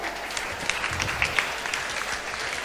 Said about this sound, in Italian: Un applauso a Sonia.